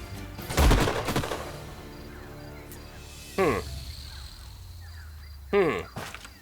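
Gunfire from an Age of Wonders: Planetfall turn-based strategy battle, three separate shot bursts spaced a few seconds apart, each with a sharp crack and ringing tail over quiet game ambience.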